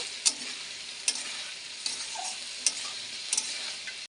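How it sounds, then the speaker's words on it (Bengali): Green peas being sautéed in a pan for a pea curry, a steady soft sizzle with a few sharp spoon-against-pan clicks spaced about a second apart, no talking. "এর মধ্যে মটরটা ঢেলে দিয়েছি, দিয়ে ভালো করে কষে নেব।"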